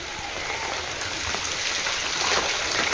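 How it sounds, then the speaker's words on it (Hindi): Heavy rain pours steadily on a flooded residential neighbourhood in Nalanda, Bihar, after a full day of downpour: a dense, even hiss of drops on surfaces with no voices. "पूरे 20 घंटा से बारिश हो रही है"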